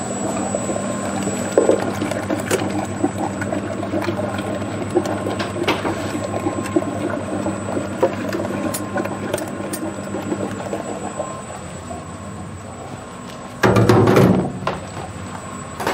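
A countertop ice cream machine runs continuously nearby with a steady mechanical hum and faint whine, small clicks scattered throughout and a brief louder rumbling burst near the end.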